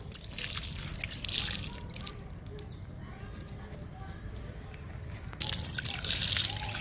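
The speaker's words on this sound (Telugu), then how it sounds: "చుక్కమల్లికి వాటర్ ఇస్తున్నా" Water poured onto a star jasmine plant in a home garden, a soft continuous trickle and splash onto soil and leaves, close by, with bursts of hiss at the start and end.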